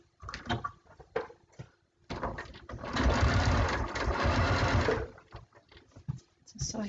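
A sewing machine set to a slow speed stitches a quilt binding for about two seconds with a steady, even whir, after someone speaks briefly amid handling clicks and fabric movement.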